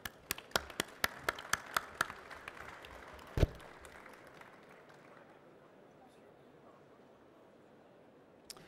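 At a French corporate environment award ceremony, a few sparse, faint claps ring out in a large room, then fade into quiet murmuring.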